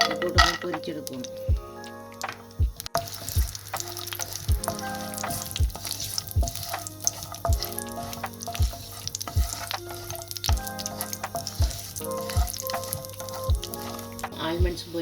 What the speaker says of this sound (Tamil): ஆல்மண்ட்ஸ் 6, கஜு ஒரு 7 போட்டு பொரிச்செடுக்கணும்.